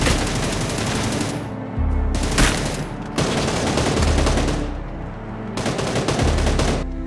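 Rapid automatic gunfire in the battle royale shooter New State Mobile: loud, close bursts of dense shots broken by brief pauses, with single heavier reports between, and no talk.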